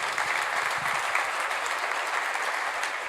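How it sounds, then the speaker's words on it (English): An audience applauds steadily, a dense wash of clapping that holds at even volume throughout. "a warm applause for Jeff Tibal."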